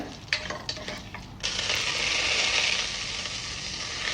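Spices and dried red chillies frying in oil for a coconut-free moru curry: a few quick stirring clatters, then a louder, steady sizzle rises and holds close.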